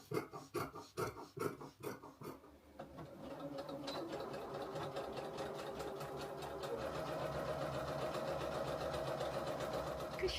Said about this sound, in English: I'm going to cut it out and get sewing them up